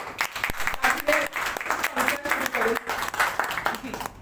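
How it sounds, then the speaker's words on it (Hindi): Audience at a poetry gathering giving a final round of applause, uneven clapping that rises and dips while a voice talks over it, with individual claps standing out. "आप आखिरी बार एक बार तालियां बजा दीजिए।"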